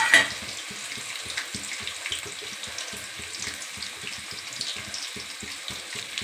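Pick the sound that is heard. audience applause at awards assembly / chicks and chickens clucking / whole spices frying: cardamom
whole spices frying: cardamom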